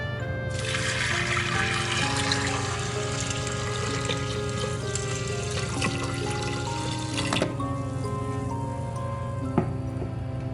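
Water pours steadily from a tap into a pot of beans, herbs, sugar and molasses for Jamaican soupy bread, a continuous splashing trickle that runs for about seven seconds before easing off.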